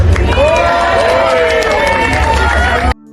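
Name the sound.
applause for Jokowi at a speech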